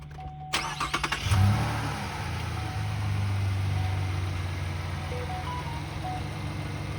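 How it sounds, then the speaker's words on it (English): A 2018 GMC Canyon pickup truck engine idles steadily at close range, a low continuous rumble with a few brief rhythmic bursts near the start before settling into an even hum. "let's focus on that engine and let you hear it run. Listen to this."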